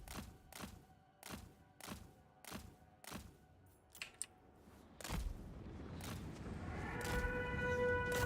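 Enemy units in a Total War Warhammer 3 battle open fire on the player's army: a regular series of about six dull thuds, then heavier booming volleys building into a sustained, dense rumble of distant gunfire.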